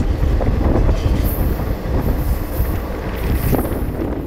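The Amravati Express passenger train rolls slowly, a loud, close rumble of wheels and carriages with rattling, faint squeals and rhythmic clatter, no voices.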